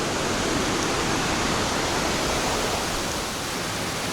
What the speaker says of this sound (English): I'm at Bao Dai Waterfall.